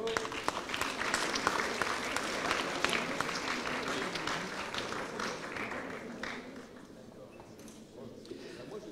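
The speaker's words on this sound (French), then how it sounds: "On peut les applaudir." A crowd applauds steadily, dense clapping that gradually thins and fades toward the end.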